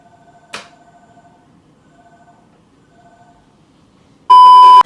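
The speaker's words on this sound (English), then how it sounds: "I hate this house phone." House phone giving a few soft, spaced electronic beeps after a brief click, then a sudden loud, bright tone bursting in at the end.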